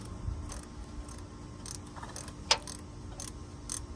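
Bolts between the transmission and the block of a 1959 Chrysler Golden Lion with a 383 RB engine loosened with a ratchet: faint metallic clicks and one sharp close tick over a low rumbling background.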